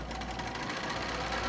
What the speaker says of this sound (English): I'm just going to take it and I'm going to sew down.